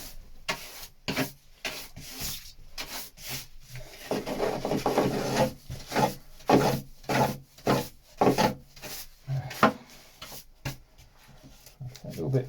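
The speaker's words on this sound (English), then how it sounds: "so I just need a bit more sanding." A sanding block rubs back and forth over a wooden piece by hand, a Shetland project, with rhythmic rasping strokes, near and distinct, some in quick bursts and a few pauses between.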